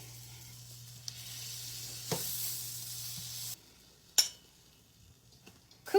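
Flour cooking in a pan for a bechamel, a quiet sizzle broken by a few sharp scrapes and clinks of a utensil against the pan, with a low steady hum underneath that cuts out partway, and no voices.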